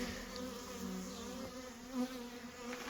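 A honey bee swarm clustered on a fence hums with a continuous close buzz, with single bees whining past now and then, fairly quiet overall.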